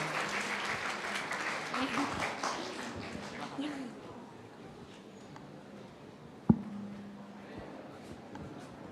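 Applause from the audience at a school club expo, moderate and somewhat distant, fading out over several seconds, followed by quiet room tone and a single sharp knock.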